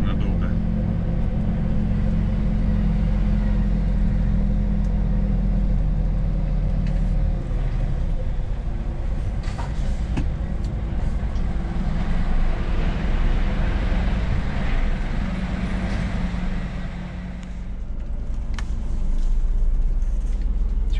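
Scania truck out on a test run after new engine software was loaded, giving a continuous loud low rumble of engine and road noise throughout, close and steady, with someone talking over it.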